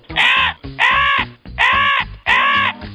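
A crow in an animated story caws four times in a steady rhythm, each harsh call loud, close and clear with brief pauses between.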